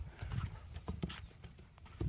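Horse hooves clip-clopping in a quick trotting rhythm on open ground, close by, with one brief high tone partway through.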